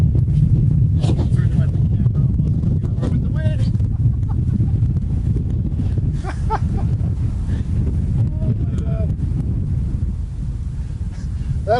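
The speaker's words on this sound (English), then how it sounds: "So it's very, very windy out here" Strong wind buffeting a microphone outdoors in Hawaii, a continuous low rumbling roar throughout, with someone talking faintly underneath.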